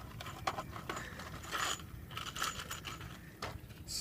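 Screws being handled and sifted by hand while replacing an RV camper's black water valve, giving faint scattered metallic clinks and rattles close by, with no talk.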